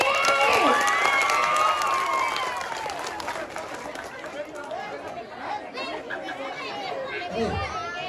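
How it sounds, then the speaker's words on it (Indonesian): An audience at a Balinese comedy show applauds and cheers, with whoops and lively crowd chatter over the clapping, which is loud at first and then settles into softer, ongoing noise. "Tepuk tangan buat Sobat Tante Messi."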